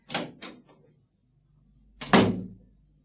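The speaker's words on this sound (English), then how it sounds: "I'll just bolt the door." A stage door is shut in a theatre production, with a couple of quick knocking thuds and then a heavier bang as it is bolted, close and fairly loud in a quiet room.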